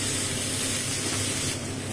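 Onion and ginger garlic paste frying in a pan make a loud, continuous hiss-like sizzle right up close, steady throughout with a slight drop near the end.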